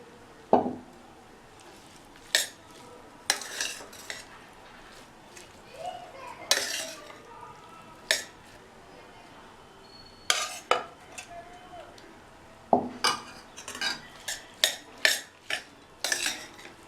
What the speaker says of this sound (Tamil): சாதத்தில் போட்டு கிளறிடலாம்.